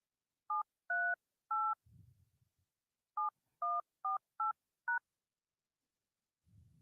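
Telephone keypad tones entering a PIN on a radio call-in line, eight short beeps in an irregular sequence, clear and close, with faint low rumbles in the pauses.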